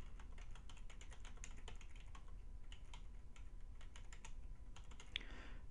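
Keys clatter steadily on a computer keyboard as a title is typed into a website widget, a quiet run of close, rapid clicks with no talking.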